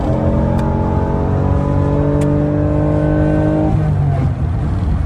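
An older Nissan NSX sports car engine holds a loud, steady revving drone from inside the cabin, then the pitch drops away as the driver shifts into third.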